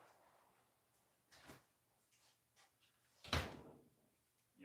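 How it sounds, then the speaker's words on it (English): A door being pushed shut in a windy, rainy house, one firm thud standing out above quiet background with a few softer knocks and bumps around it. "Actually, you know what? I'll close that door."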